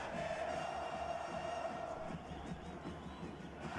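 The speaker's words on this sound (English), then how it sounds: "Still the crowd pushing Puebla. The home crowd, the Poblanos." A home football crowd roars steadily for Puebla at their stadium, a dense, continuous wall of cheering and chanting that stays loud throughout without a break.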